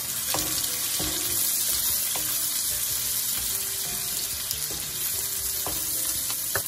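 Roughly chopped garlic cloves frying in oil in a pan, with a steady sizzle and crackle and scattered clinks and scrapes of stirring.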